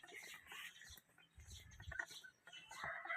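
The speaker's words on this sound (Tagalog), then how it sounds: "makukulit na manok" Several Rhode Island Red chickens clucking and squawking nearby in irregular bursts, fairly faint, with some rustling around them.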